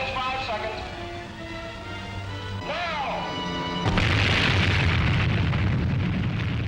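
An atomic bomb test explosion in archival footage arrives as a sudden loud, sustained roaring rumble that follows a voice and swelling orchestral music.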